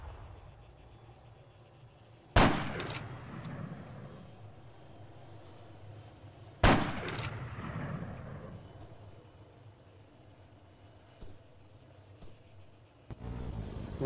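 Two sharp, heavy Gepard GM6 Lynx sniper rifle shots in Arma 3, spaced a few seconds apart, each followed by a rolling echo. A third report comes near the end over a quiet ambient hum.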